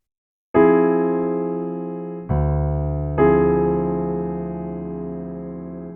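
Clean guitar sounding a minor 7 flat 5 drop 2 chord voicing, three ringing strums that each sustain and slowly fade, close and unaccompanied with no talking.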